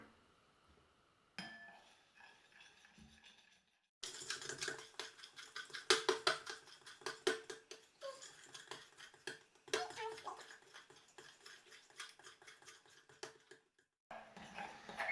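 Fluffy slime being stirred and mixed in a bowl, giving a run of quick clicking, scraping and tapping strokes in irregular bursts with short pauses, close up and fairly quiet.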